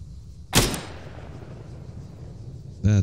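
A single sharp crack from an AI AXMC sniper rifle in the video game Squad, loud and sudden, fading into quiet, with a short tonal buzz at the very end.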